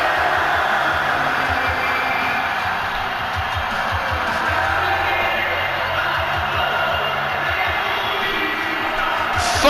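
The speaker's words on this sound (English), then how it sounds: "Listen to the crowd sing." Large arena wrestling crowd at WCW Halloween Havoc, a dense, steady roar of many voices that seems to swell into collective singing or chanting, sustained and loud throughout with no clear individual voice on top.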